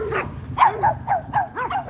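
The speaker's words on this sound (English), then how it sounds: "You want to hear howling?" A dog yips and whimpers in short, rising and falling cries, five or six closely spaced calls over a couple of seconds, fairly near and with no talk.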